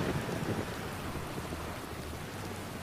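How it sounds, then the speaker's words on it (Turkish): Steady rain falling in the Bus Driver driving game, a continuous broadband wash with a low rumbling undertone, even and moderately loud throughout with no talking. "Evet, yağmurlu bir hava."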